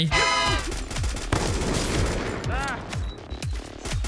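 Rapid bursts of gunfire from the mobile battle-royale game Free Fire, loud and close with repeated shots, as someone talks excitedly over the shooting.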